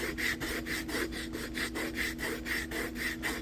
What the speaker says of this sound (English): just going over it with this, it's not only sanding the edge down